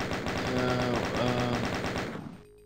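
Rapid automatic gunfire from the video game Final Doom rattles in a fast, evenly spaced burst for about two seconds, then cuts off into a short fading tail.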